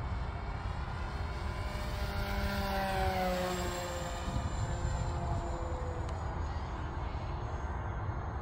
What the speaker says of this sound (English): We're at full speed right now.